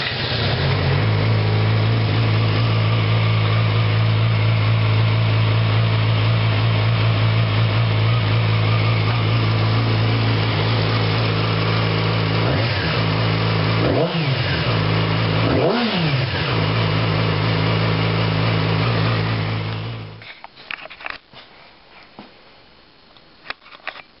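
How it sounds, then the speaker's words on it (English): A stock 2007 Yamaha R6 motorcycle on its stock exhaust idles steadily and loudly up close, with a few quick revs near the middle, then cuts off, leaving quiet background noise. "This is a stock 2007 R6 with stock exhaust walk around."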